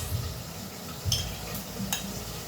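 Kinilaw na bangus being stirred and mixed in a bowl, soft wet swishing with a few light utensil clinks against the dish, quiet and close, no talk.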